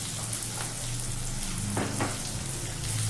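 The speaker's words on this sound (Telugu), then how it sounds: "బాగా వేగనివ్వండి కలర్ చేంజ్ అయ్యే వరకు కూడా వేయించుకోండి" Onion, green chilies and curry leaves frying in oil for an okra tomato gravy curry, a steady close sizzle and crackle running through the whole stretch with a couple of brief stirring scrapes.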